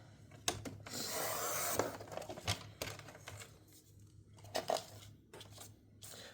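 Scissors or a blade cut white paper for a scrapbook overlay in quiet, close-up scraping and snipping bursts, irregular and soft, with small clicks between.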